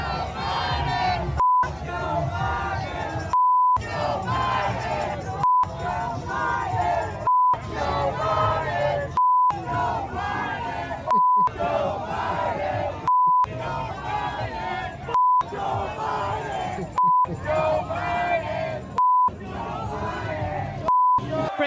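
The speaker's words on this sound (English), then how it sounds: "you can hear the chants from the crowd. Let's go, Brandon." A large political crowd chants and yells in unison, a loud, continuous roar with rhythmic shouted phrasing, broken by repeated short silent cuts and bleep tones throughout.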